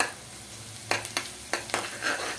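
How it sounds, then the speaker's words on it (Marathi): Ginger garlic paste frying with softened onions in a pan, a soft steady sizzle broken by several sharp scraping stirs from a spoon, all close and fairly quiet. "त्यामध्ये आता आपण आलं आणि लसूणची पेस्ट टाकणार आहोत."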